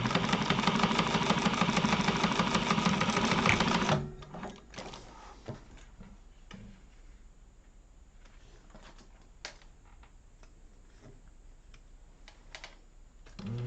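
A sewing machine runs steadily for about four seconds while top stitching a zipper seam on a wallet, then stops, leaving faint scattered clicks and handling noises.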